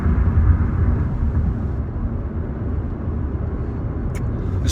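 Road traffic heard from inside a moving car, a loud steady low rumble of engine and tires with faint higher clicks near the end, no talk.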